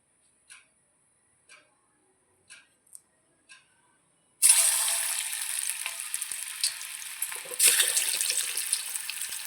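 Paneer pieces dropped into hot oil for deep frying: a few faint ticks, then a loud, sudden burst of close sizzling and bubbling that keeps crackling, with a second surge near the end.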